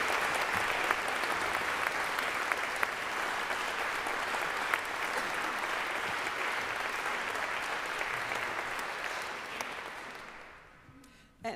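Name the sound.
audience applause for organist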